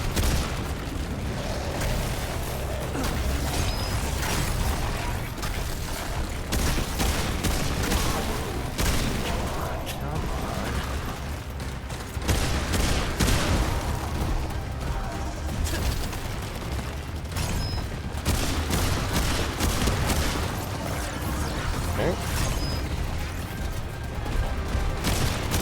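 Video game gunfire and booming explosions from Remnant 2 rumble continuously in a dense, loud mix, with bursts and impacts layered over each other throughout, and a voice faintly present at times.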